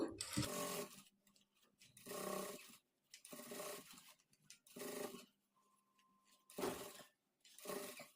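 A sewing machine stitches a blouse neckline with lace and piping, running in short separate bursts of rapid mechanical whirring with quiet pauses between, close and fairly soft.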